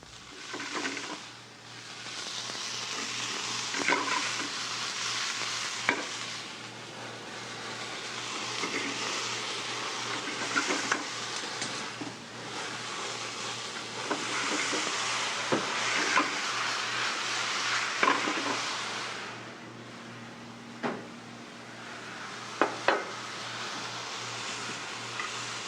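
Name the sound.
broccoli and vegetables being stir-fried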